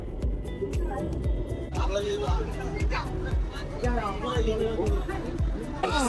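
A dense holiday crowd at the Bund in Shanghai fills the air with constant overlapping chatter and footsteps, a close, busy murmur of many voices mixed with faint traffic and other street noise.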